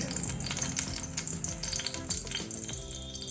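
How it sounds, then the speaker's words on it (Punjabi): Homemade butter heats in oil in a pan, crackling and sizzling steadily up close with bright, busy spitting and a few utensil taps. "ਮੱਖਣ ਪਾ ਕੇ ਚੰਗੀ ਤਰ੍ਹਾਂ ਗਰਮ ਕਰ ਲਵਾਂਗੇ"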